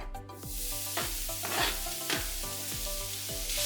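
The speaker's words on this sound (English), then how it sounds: "Okay, the Instant Pot is fully heated up on saute mode. Now we're going to add the bacon." Bacon sizzles in an Instant Pot on saute mode, a close steady crackle with repeated scraping stirs at roughly half-second intervals, heard alone without talking.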